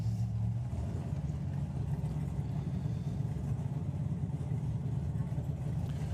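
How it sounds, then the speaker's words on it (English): Drag racing cars at the 2022 STP Summer Nationals, including the Topolino and the Joker, one naturally aspirated: a steady, loud, low engine roar fills the whole stretch without a break. "Going alongside Callum Swinchat with the King's Topolino"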